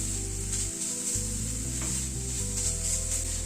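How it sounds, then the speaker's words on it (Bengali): Sesame seeds are stirred in a hot pan for a coconut and date-palm jaggery filling, giving a dense, even sizzle that runs unbroken throughout, close and without speech. "তিলটাকে দিয়ে আবার একটু নাড়াচাড়া করে নিচ্ছি।"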